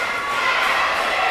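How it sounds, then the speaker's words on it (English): Crowd at a high school swim meet, a steady wash of cheering and chatter filling the natatorium, dense and continuous with no single voice standing out. "Lots of chatter, lots of cheer"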